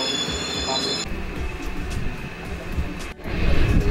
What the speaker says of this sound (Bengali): ট্রেনের মধ্যে আছি আপাতত